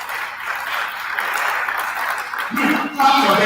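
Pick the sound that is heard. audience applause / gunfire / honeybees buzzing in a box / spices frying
audience applause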